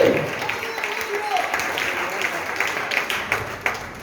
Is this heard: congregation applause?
yes